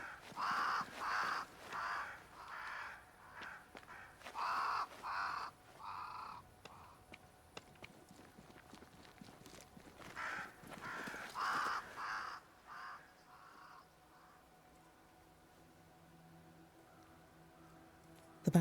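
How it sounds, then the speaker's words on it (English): Crows caw in repeated bursts of several harsh calls each, spaced a few seconds apart, then taper off into quieter ambience, heard in the video game Banishers near a great tree where the birds flock. "Crows. They flock to that great tree up there."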